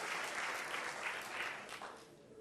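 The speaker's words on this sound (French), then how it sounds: "Merci infiniment pour vos salves d'applaudissements." Applause from an audience at a music show, a steady wash of many hands clapping that gradually thins out toward the end.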